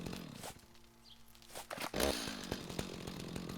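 A chainsaw in the video game Rising World starts up and runs with a buzzing, uneven roar that rises after a quieter stretch and continues to the end.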